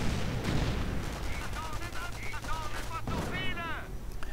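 Video game battle gunfire around an MG42 position, dense rattling shots and booming bursts throughout, with whistling streaks of incoming fire near the end, loud and continuous.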